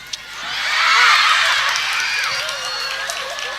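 Students at a school Quran commemoration event burst into loud applause mixed with cheering, swelling quickly and then holding steady before easing off slightly.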